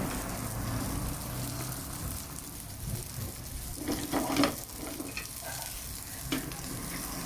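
Rice being stir-fried for old-style Thai fried rice, a steady close sizzle with a few louder scraping stirs midway and near the end.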